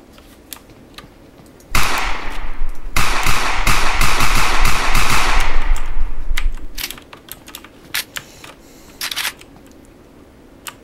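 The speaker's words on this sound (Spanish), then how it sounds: "Ni siquiera sintió el balazo el tipo." A burst of rapid gunfire in the stealth video game Sneak Thief, a loud dense volley of sharp cracks lasting about five seconds, then scattered single clicks and taps in a quiet background.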